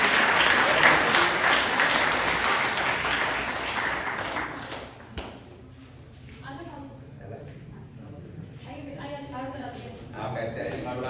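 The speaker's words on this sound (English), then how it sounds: "A clap for them" Students at a college orientation day applaud loudly for several seconds, the clapping fading out midway as people begin talking.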